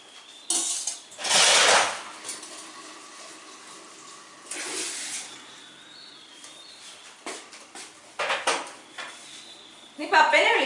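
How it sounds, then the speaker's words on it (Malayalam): Dishes, pots and plates being washed in a home kitchen, with clattering bursts of crockery and splashing tap water, near and fairly loud, while voices talk intermittently. "ഞാൻ പാത്രം കഴുകാം"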